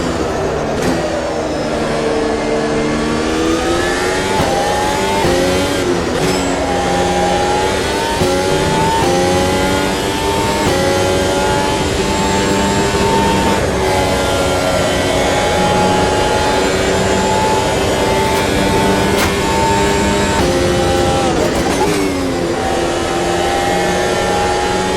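Race car engine on a hot lap in Automobilista 2, loud and continuous, revving up and down through gear shifts with sharp downshift blips, heard alone without talk.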